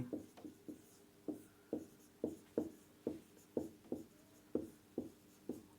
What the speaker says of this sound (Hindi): हिंदी में लिख देता हूँ